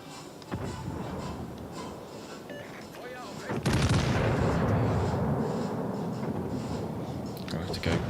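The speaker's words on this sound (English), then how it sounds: "Poltava's firing on you, Griff" Naval guns firing in World of Warships: Legends, a heavy sustained boom and rumble of battleship salvos swelling partway through and rolling on loudly, with someone talking over it.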